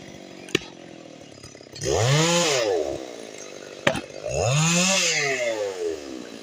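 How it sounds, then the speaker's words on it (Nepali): Chainsaw cutting firewood in two separate bursts, each revving up, bogging into the wood and dropping off, loud and close, with sharp knocks between cuts. "यो आधुनिक प्रविधिको मिसिन आरा मिसिनले चाहिँ दाउरा काट्दै छिटो मिठोको लागि चाहिँ यो सहज हुन्छ"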